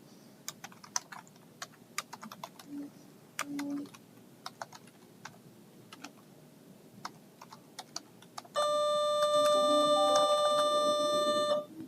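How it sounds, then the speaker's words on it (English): A school class bell rings in a classroom setting, a steady loud tone sounding near the end after scattered keyboard clicks and faint taps. "I apologize for that class bell."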